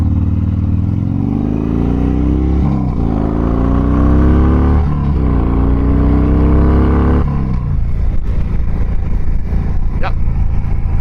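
A Harley-Davidson Dyna Fat Bob 103 motorcycle rides along, its loud V-twin engine rumbling and climbing through several gear shifts before easing to a lower cruise, with wind buffeting the microphone.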